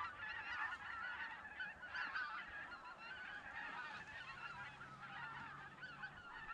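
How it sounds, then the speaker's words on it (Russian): A flock of Canada geese honks repeatedly at a distance during a goose hunt, overlapping calls coming faintly but steadily with no talking. "Казарку слышали? Да, канадская."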